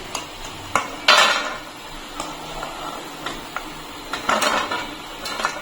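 A metal utensil clinks and scrapes against a pan while lifting fried gaja, a Bengali sweet of wheat flour, out of hot oil, with sharp irregular clatters spread across several seconds and no talk.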